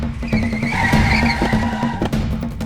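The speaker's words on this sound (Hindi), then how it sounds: "अचानक एक कार उसके पास आकर रुकी" Tires squeal loudly as a car screeches to a sudden stop, a sustained skidding whine over engine rumble, close and prominent with no talk.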